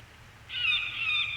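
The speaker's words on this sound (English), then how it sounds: "Start off with a good dose of bird distress." A bird distress call plays from an electronic predator game caller during a coyote and bobcat hunt, a single drawn-out, wavering high squeal of moderate loudness lasting about a second, alone over a faint low background.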